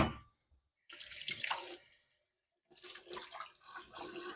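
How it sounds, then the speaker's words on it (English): Running tap water for washing up in a home kitchen, splashing close in two bursts with a quiet pause between them. "Let's start washing and clearing this place out."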